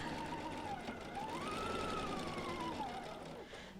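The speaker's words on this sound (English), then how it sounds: "I'm going to go to my sewing machine and do the same thing with my 1/4 inch foot" A sewing machine with a quarter-inch foot stitches a quarter-square-triangle quilt seam in one steady, faint, continuous whir that lasts about four seconds.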